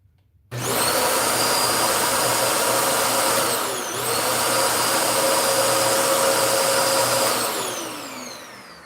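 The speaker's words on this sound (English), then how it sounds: "I like these old school vacuums though" An old-school vacuum cleaner switches on with a sudden loud whine and runs steadily close by, its motor pitch dipping briefly and later winding down slightly, with no voices.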